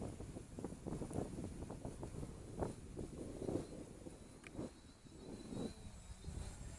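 Gusty wind buffets a Acme Zoopa Evo Q550 quadcopter drone in flight outdoors, a steady rushing roar with faint rotor whine, swelling and easing continuously throughout.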